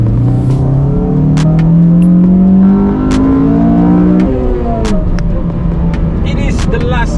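A Honda Civic FD2 Type R with its naturally aspirated VTEC engine revving loudly up through the rpm range, the rising engine note climbing and dropping, close and dominant.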